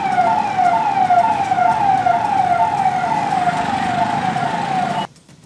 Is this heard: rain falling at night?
no